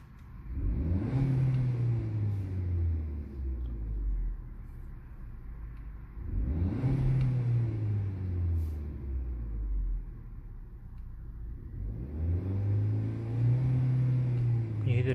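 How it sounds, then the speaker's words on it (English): Stock VW Golf MK6 turbo engine heard from inside the cabin, revving in three rising, surging pulls with a steady droning rumble between them, loud and continuous. "Can you hear the turbo, guys?"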